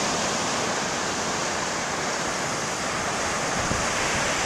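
Ocean surf rolls in at Burro Arroyo Beach, Santa Barbara, just after dawn as the tide comes in, a steady, close, full-bodied wash of breaking waves with no pauses and no voices.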